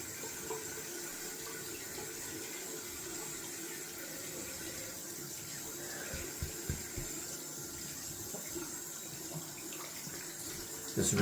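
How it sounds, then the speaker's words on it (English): Tap water running steadily as slippery soapy hands are rinsed after shaving with soap, a soft close splashing stream with light hand movement and a brief louder splash at the end. "Just rinsing quickly off the hands because they are extremely slippery from that soap."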